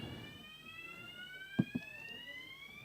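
A fire alarm sounds in a conference setting as a steady electronic tone with several layered pitches, held at moderate level throughout, with two brief knocks near the middle.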